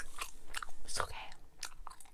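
Close, wet chewing of soft, sticky Bubble Dozer truck-shaped gum, with a series of quick smacking bites and squelches spread across the moment, no talking.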